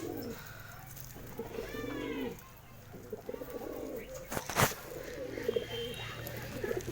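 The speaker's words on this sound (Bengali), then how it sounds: "যে ভিডিওতে কবুতরগুলো সবাইকে দেখিয়ে দিচ্ছি" Pigeons give low, rolling coos in the first couple of seconds, followed by softer coos and rustling, with a sharp loud knock midway, all close and fairly quiet.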